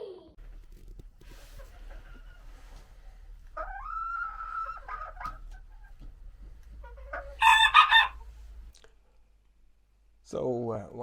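Backyard chickens, including dwarf hens, give soft clucks and a sharp crowing burst in a quiet setting, with a short spoken remark between calls.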